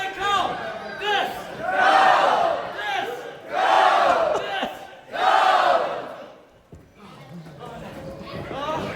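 A wrestling crowd at a Frontline Pro show chants in three loud, rising swells for wrestler Disco Ray, with a voice audible alongside before the chanting fades to a murmur.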